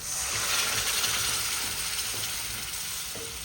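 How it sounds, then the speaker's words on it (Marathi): Spicy masala fries with drumsticks for shevga bhaji, giving a dense continuous sizzle up close with faint scraping and clicking from stirring, and no voices. "तर आपण आता ज्या शेंगा शिजवून घेतलेल्या होत्या त्या ॲड करून घेऊया"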